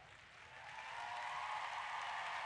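Crowd at the 2010 World Equestrian Games dressage arena applauding as a rider leaves, a broad wash of clapping swelling over the first second and holding steady, heard from a distance.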